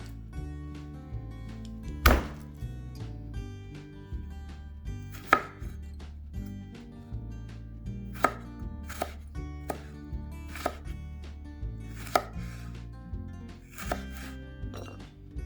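Fresh sweet and jalapeno peppers being chopped with a knife on a board, a series of sharp close knife thunks at irregular intervals over soft background music.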